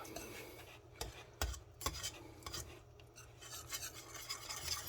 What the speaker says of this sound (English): Whisk that through.